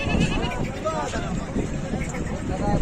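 Goats bleat at a busy livestock market, several calls rising over a steady crowd murmur and wind, while someone talks nearby throughout.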